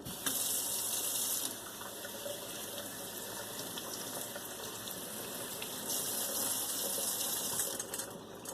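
Broccoli florets being rinsed under a running kitchen tap, a steady close gush of water splashing into the sink for several seconds, swelling louder at the start and again near the end, with no talking.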